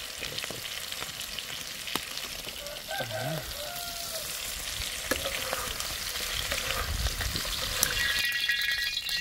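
Buttered crabs fry in a pan with a continuous crackling sizzle and bursts of stirring and spattering, louder near the end. A faint voice murmurs briefly underneath.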